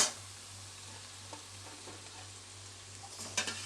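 Grated carrot frying in a pan with a tempering of spices, a steady soft sizzle throughout with a low hum beneath and a few brief stirring scrapes near the end.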